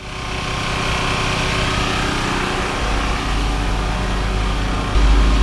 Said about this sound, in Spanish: Pues ese ruido que se escucha es el motor del generador de electricidad.